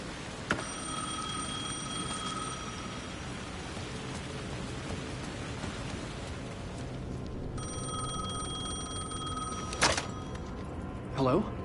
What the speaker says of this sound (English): phone was ringing again.